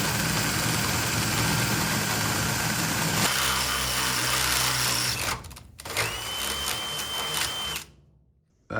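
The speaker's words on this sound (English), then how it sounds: "Small drill bit first." A small bit in a power drill bores a hole in a Bronco windshield frame for a roll cage mount, a loud steady high whine that stops briefly, restarts, then cuts off near the end.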